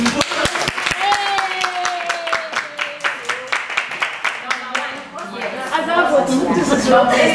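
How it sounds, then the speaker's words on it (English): A small audience at a fashion school lecture claps for a winner. Sharp, separate hand claps come in an uneven rhythm and gather into a fuller patter, while voices call out and chatter throughout. "Oh, let's clap for him."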